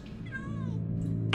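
A cat meows in the video game Minecraft: Story Mode, one short rising-and-falling mew over a low droning backdrop, followed by a brief rustle.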